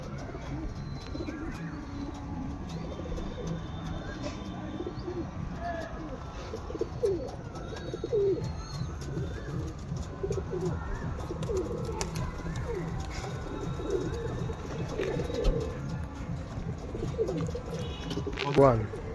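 Soft, repeated cooing of local desi pigeons mixed with a busy bird background, with a person talking nearby throughout.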